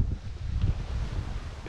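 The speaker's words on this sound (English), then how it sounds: "Sorry about the wind." Outdoor wind buffets the microphone during a duck house build, giving a continuous low, rumbling roar with a faint rustle over it and no voices.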